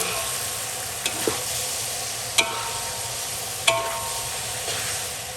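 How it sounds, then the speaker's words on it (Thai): Pork rinds sizzle steadily in oil over low heat, a continuous frying hiss broken by a few sharp clicks and scrapes as they are stirred now and then. "เราจะใช้ไฟอ่อนในการเจียวนะคะ"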